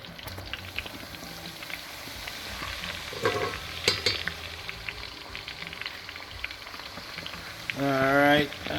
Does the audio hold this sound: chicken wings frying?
yes